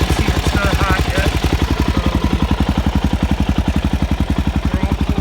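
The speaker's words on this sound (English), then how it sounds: "with that Yoshi exhaust, I thought it would be louder, but it's really not too loud at all" A Suzuki DRZ 400 SM with a Yoshimura exhaust idles close by, a fast, even thumping pulse, fairly loud and steady with a light mechanical clatter on top.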